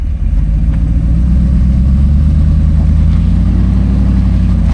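A vehicle engine rumbling low and steady at close range during an off-road recovery, a continuous idle-like drone with no talk over it.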